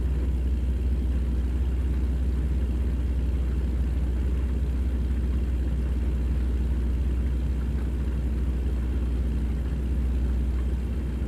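A steady low truck engine rumble from the video game American Truck Simulator idles continuously, even and unbroken throughout, with no voices over it.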